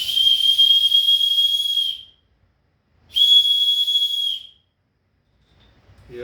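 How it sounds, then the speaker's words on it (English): Two loud, shrill whistle blasts, each about a second or two long, separated by a short silence, with no talking. "A whistle."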